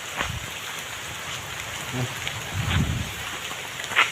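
Steady rain falling outdoors near a hanging bridge, a constant even hiss throughout with a few faint louder drops and no talking.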